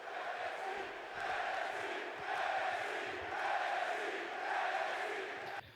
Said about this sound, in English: The crowd chanting